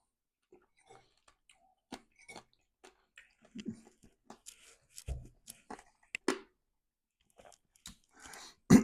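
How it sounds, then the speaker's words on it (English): Crunchy guanciale from a plate of rigatoni all'Amatriciana is chewed close to the mic, giving scattered crisp crunches and soft bites with quiet gaps between them. "listen to that crunch of that guanciale."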